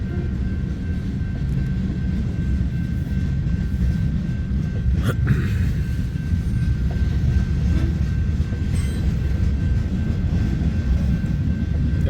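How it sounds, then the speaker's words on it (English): Southern Pacific gondola rail car rolling past in a freight train, a steady low rumble and rattle of wheels on track, with a couple of brief metallic clanks, no talking. "here comes a Southern Pacific gondola"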